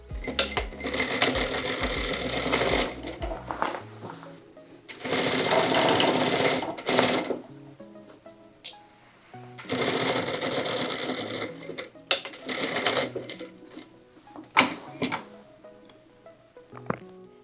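A sewing machine stitching dress pockets in place, loud whirring runs of several seconds each broken by pauses with small clunks and handling noises, no talk.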